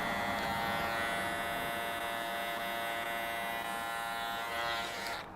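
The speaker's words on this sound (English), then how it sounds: "I'm going to use the Andis T outliner, my favourite, so I always use it." Andis T-Outliner electric hair trimmer with a tight blade buzzing steadily at close range during a men's haircut, a constant electric hum that cuts off near the end.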